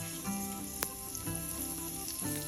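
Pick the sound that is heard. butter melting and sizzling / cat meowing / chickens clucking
butter melting and sizzling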